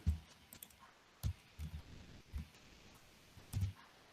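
Keys tapped on a computer keyboard, including the Enter key, a handful of soft, isolated clicks and thumps spaced irregularly over a quiet background.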